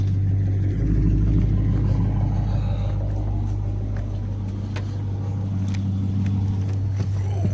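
A Dodge car engine running after a wheel speed sensor replacement, a strong steady low hum and rumble close by that holds throughout with slight shifts in pitch.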